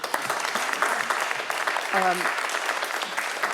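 Applause from the audience at a League of Women Voters candidate forum in Hartford: continuous, even clapping from a seated crowd, with a brief voice or tone rising briefly through the middle.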